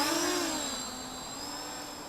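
Whining electric motors of a small Ao Sen Ma CG035 GPS quadcopter drone hum steadily, their pitch sliding down and then levelling out as throttle eases, fairly close and without talk.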